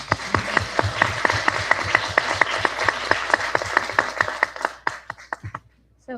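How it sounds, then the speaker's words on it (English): A small audience at a Chatham Central School District Board of Education meeting claps steadily for several seconds, with individual hand claps clearly distinct, then tapers off into quiet. "Let's give them all a round of applause."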